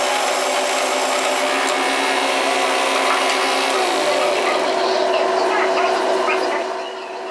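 Skew chisel cutting shoulders into a wooden workpiece spinning on a lathe, a steady close scraping and rushing hiss with the motor's hum underneath, running without a break before easing slightly at the end.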